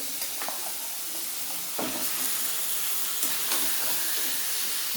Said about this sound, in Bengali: এবার আমি চিকেনগুলো দিয়ে দেবো